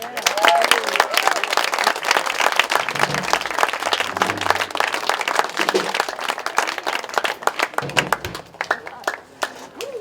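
An audience at a singer-songwriter performance gives a round of applause, with dense, close clapping that swells and then thins out over about ten seconds, plus a few faint voices.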